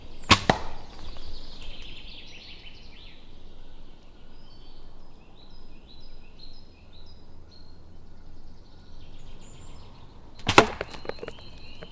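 An archery bow looses an arrow with a sharp snap near the start, followed by a long quiet stretch of outdoor ambience with faint birdsong, then a second sharp crack near the end.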